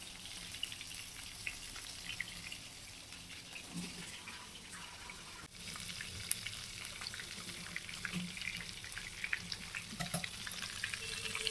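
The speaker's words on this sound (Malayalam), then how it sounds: "അപ്പം എണ്ണ ഏകദേശം ചൂടായി കാണാൻ സാധ്യതയുണ്ട് മീനങ്ങനെ ഇട്ട് കൊടുക്കാം" Pieces of hamour fish frying in hot oil in a small pan, with a soft, steady crackling sizzle and occasional faint stirring noises, heard fairly quietly and with no talking.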